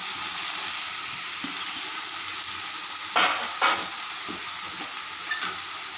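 Boiled green peas and sweet potato go into a hot pan, giving a steady, close sizzle with a couple of brief scraping stirs partway through.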